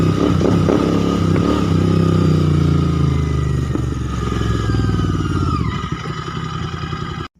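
A motorcycle ridden at speed on a road in India, its engine roaring loud and close with a steady drone, then easing off as the rider slows toward the end.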